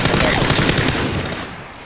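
Rapid automatic gunfire in a shooter video game, a steady burst of shots that fades slightly toward the end, with faint talk underneath.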